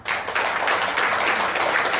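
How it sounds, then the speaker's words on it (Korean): Church congregation applauding during a Sunday sermon, a dense steady wash of clapping from many hands that holds evenly for the full two seconds without pause. "우리 박수 쳐주세요."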